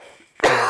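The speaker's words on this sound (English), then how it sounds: "I'm coughing" A single sharp cough bursts out after a brief quiet stretch, loud and close, following faint low background sound.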